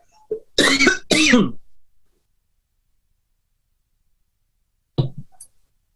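A person nearby clears their throat in a few rough bursts, then goes quiet before one more short cough-like clearing after a pause.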